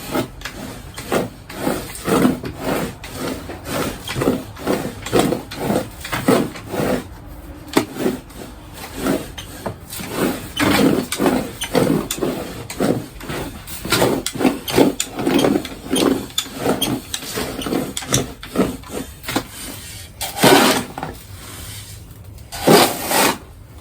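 A two-way stirrup hoe mixing dry fertilizer ingredients, giving rhythmic gritty scraping and rasping strokes in a steady back-and-forth pattern, close and continuous with a few brief pauses.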